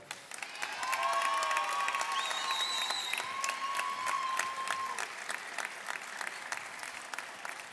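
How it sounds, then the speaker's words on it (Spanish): Audience applause at a university sports event opening ceremony, steady clapping from a crowd at moderate distance, with brief whistles or cheers rising above it. "le damos un aplauso a los representantes de la Universidad Tecnológica"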